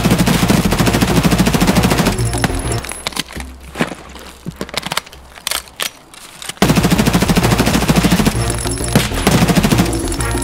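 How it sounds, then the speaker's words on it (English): Loud automatic gunfire in the video game Escape From Tarkov rattles in long rapid bursts, pauses for a few seconds of scattered shots and clatter, then resumes as sustained heavy fire. "I'm using all my rounds on this guy."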